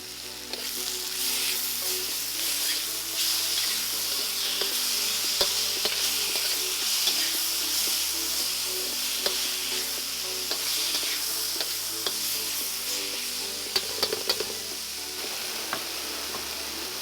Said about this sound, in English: I'm going to drop in our diced tomatoes.